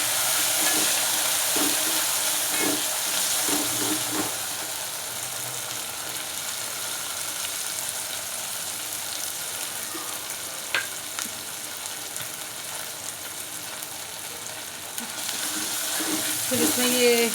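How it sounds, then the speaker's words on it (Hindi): Garlic ginger paste frying with light brown onions in a pan for a guar bean dish, giving a steady close sizzling hiss with faint stirring scrapes throughout. "अब इसमें हमने 1 चम्मच लहसुन अदरक का पेस्ट शामिल करना है।"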